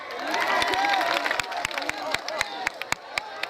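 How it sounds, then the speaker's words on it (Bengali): Audience applause at a Bengali stage show, with steady clapping and crowd noise mixed with voices and a few sharper claps standing out toward the end. "নিজেদের জন্য একটা জোরে হাততালি হোক"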